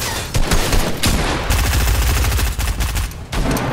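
Loud, sustained gunfire in Fortnite, rapid automatic bursts with a brief gap, close and continuous and alone with no voices.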